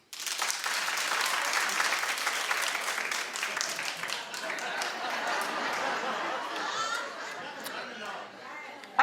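A talk-show studio audience applauds loudly and steadily for the whole stretch, a dense wash of clapping with some chatter mixed in, tapering slightly near the end.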